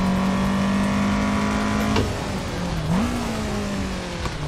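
An AE86 drifts on a circuit in Assetto Corsa, its engine droning at steady revs with a pitch dip and rise, alongside faint tire noise.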